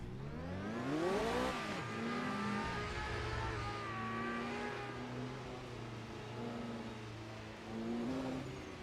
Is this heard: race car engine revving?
yes